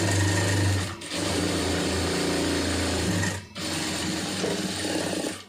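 A sewing machine stitches a cigarette pant leg in a close, loud, continuous whirring run, broken by two brief stops before it starts again.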